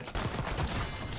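Long-range rifle gunshot in the video game Warzone: a sharp, loud blast that kicks in early and rings out briefly, with no talking over it.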